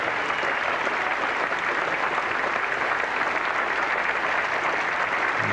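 A cricket crowd at a 1985 England versus Australia Test match applauds a batsman's century in a dense, continuous wash of clapping that holds steady throughout.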